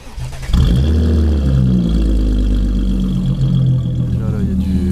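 A tuned BMW 335i with forged engine and hybrid turbo starts up: a sharp catch, then a loud, steady low idle rumble close by, with someone speaking briefly over it.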